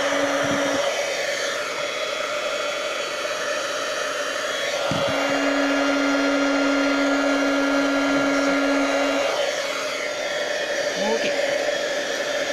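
A heat gun blows hot air for heat embossing on card, giving a loud, steady whirring roar that runs almost without pause, with a brief spoken word near the start.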